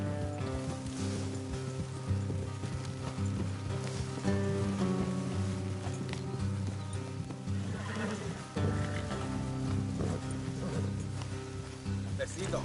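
Horses trot along a road in a PS4 video game, steady clip-clop of hooves with an occasional whinny over a low rumbling ambient bed, characters talking faintly in the background.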